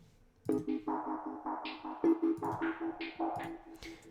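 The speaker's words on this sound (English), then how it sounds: "Let's add some reverb here." A crisp, regular hi-hat pattern with a reverb tail washing behind each hit, played steadily over a sustained tonal drone, fairly loud and close.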